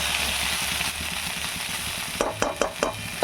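Freshwater snails sizzle steadily in a hot pan, then a utensil scrapes and stirs in several quick strokes.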